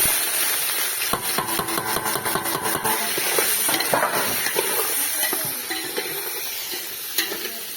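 Onions fry in hot oil for a rural village mutton curry, giving a dense, continuous crackling sizzle close up, with repeated scraping strokes of a stirring spoon.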